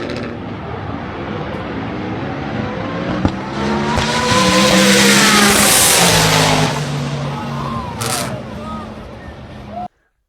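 An RX-7-style rear-wheel-drive drag race car with an H-pattern stick shift on a record run, its loud engine revving and climbing in pitch through gear changes, with tire noise and a crowd underneath, ending abruptly.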